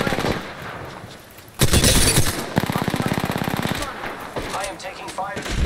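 Sustained automatic gunfire in the Apex Legends shooter, a loud rapid burst cutting in abruptly and continuing in dense rattling strings, with a voice briefly talking near the end.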